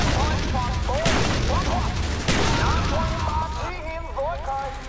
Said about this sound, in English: Oh, watch out for that nade, man.